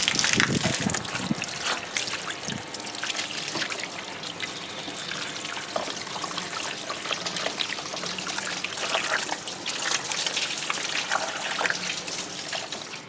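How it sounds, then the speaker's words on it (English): Water pours and trickles steadily over a car battery terminal freshly cleaned with Gunk battery cleaner, a close, continuous splashing rinse with no talking. "Next thing we need to do is rinse it off with some water, and we should be good to go."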